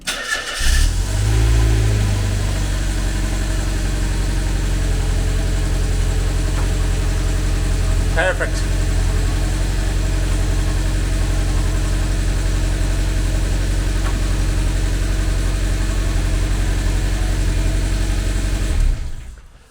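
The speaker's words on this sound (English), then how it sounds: "let's see how it works with the engine running" A Mazda MX-5 engine cranks and catches, then settles into a steady, close idle that runs loud and even for nearly twenty seconds before cutting off; a single short spoken word comes partway through.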